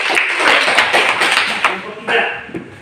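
Classroom of students clapping for a group, a brisk burst of many hands with sharper taps near the end, fairly close and loud.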